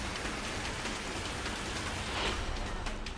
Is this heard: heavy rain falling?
yes